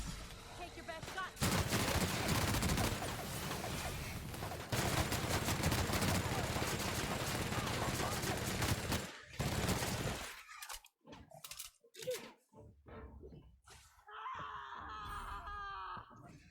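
A firefight in the video game The Outer Worlds brings dense, sustained bursts of loud gunfire, then scattered shots and sharp impacts, with voices calling out among the later noise.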